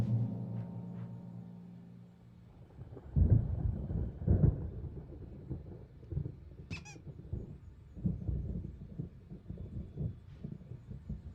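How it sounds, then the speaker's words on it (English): A thunderstorm in the video game Alan Wake gives low, rolling rumbles of thunder in uneven waves, with a brief high squeak cutting through partway. "There's a storm coming. Oh, what a storm."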